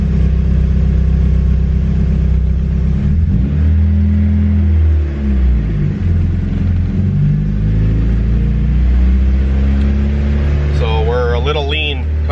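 K24-swapped Honda EK hatchback engine, naturally aspirated, revving hard on a dyno in a loud, sustained pull with rising and falling pitch, rumbling throughout.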